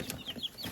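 Chicks in a large cardboard box brooder give a few quick, faint high peeps in a brief burst, close by and alone.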